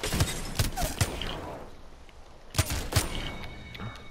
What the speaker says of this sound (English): the shots are coming from the left